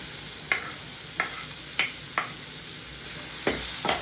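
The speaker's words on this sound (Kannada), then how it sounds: "ಇದನ್ನ ಇದರಲ್ಲಿ ಸ್ವಲ್ಪ ಫ್ರೈ ಮಾಡ್ತೀನಿ." Okra and onions frying in a pan, a steady hiss of sizzling oil broken by several sharp scraping stirs of the spatula, close and without talk.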